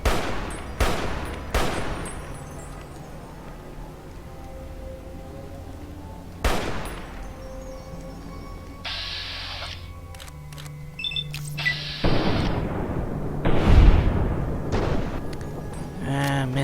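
Gunfire in the video game Fallout: New Vegas, several sharp loud shots spaced across the scene with echoing tails, some bursts and rumbling impacts, mixed with game effects and a man's occasional speech.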